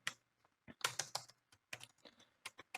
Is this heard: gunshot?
no